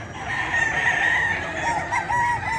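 A rooster crows at a pet market in Bocaue, one long drawn-out call followed by a shorter broken one, loud and close over a steady hum of market noise.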